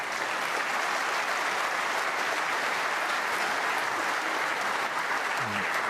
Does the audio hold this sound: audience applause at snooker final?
yes